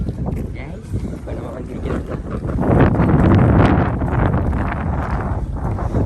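Strong wind roars steadily across the microphone, swelling louder midway, with a low rushing rumble throughout and no clear voices.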